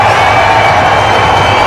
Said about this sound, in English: the Indian support in the crowd are loving it